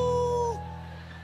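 A preacher uses his voice to imitate a dog's whimper: a thin, high, steady whine that slides downward and fades into a softer tail, heard close and alone.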